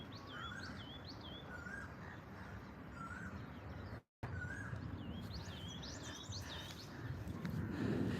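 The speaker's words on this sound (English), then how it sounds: "I'm gonna be quiet for a second, see if you can hear the birds." Birds sing and chirp along a pretty path in Kathmandu, Nepal, several bright repeating calls over a low ambient hum, moderately distant, with a brief dropout midway and no talking.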